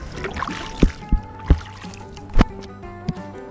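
Paddle strokes slap and splash as someone paddles an inner tube on water, about five distinct splashes at irregular intervals over a soft continuous watery wash, close by.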